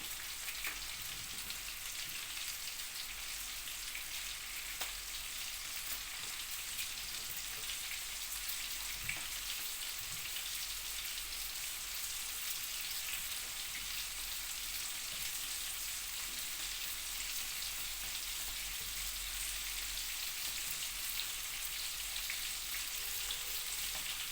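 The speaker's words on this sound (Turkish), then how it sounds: "Köfteler burada kızarıyor." Meatballs fry in a hot pan with a steady, dense sizzle and crackle that holds evenly throughout, close and alone with no voices.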